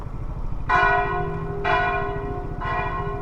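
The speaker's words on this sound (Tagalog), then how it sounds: "May kampana pa, mukhang may simba." A church bell at an old provincial church in the Philippines rings on a Sunday, with three evenly spaced, resonant strikes that ring out and decay over a low, steady rumble.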